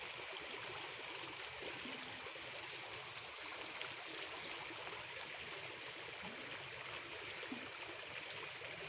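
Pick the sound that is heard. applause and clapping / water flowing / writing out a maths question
water flowing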